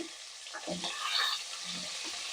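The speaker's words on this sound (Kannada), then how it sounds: "ಈರುಳ್ಳಿ ಕಲರ್ ಚೇಂಜ್ ಆಗೋವರೆಗೂ ಫ್ರೈ ಮಾಡ್ಕೋಬೇಕು" Green chillies and sliced onions fry in oil in a pan for egg biryani, producing a soft, steady sizzle with a few faint stirring scrapes, close but fairly quiet and with no voices.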